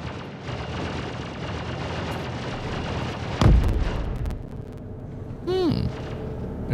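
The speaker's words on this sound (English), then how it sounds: "Explosions. That was probably another dipshit trying to blow us up." A sudden loud explosion in the video game Star Citizen bursts through continuous rumbling game noise, followed by a rising whooshing tone a couple of seconds later.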